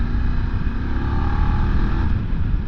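A Voge DS800X Rally motorcycle engine pulls steadily in road or sport mode, a loud, continuous close-up drone with a low rumble that holds even throughout, no voices over it.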